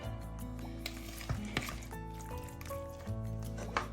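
A pan of Thai fried fish with mushrooms in a heavy chili curry paste, with sliced kaffir lime leaves and basil added, is stirred: steady close sizzling and frying under soft scraping, squishing stirs and light clinks of utensil on pan.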